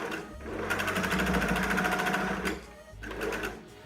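A domestic sewing machine stitches a shirt sleeve in two bursts, a fast, even mechanical whirr and needle chatter, first a long run of about two seconds, then a brief pause and a shorter run, close and clear.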